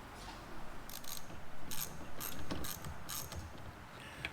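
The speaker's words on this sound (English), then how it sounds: "You have to use a shorty or a ratchet with a screwdriver tip." A ratchet driver fitted with a screwdriver tip works screws in a waverunner, giving short bursts of clicking and ratcheting, close and fairly quiet, with pauses between runs of turns.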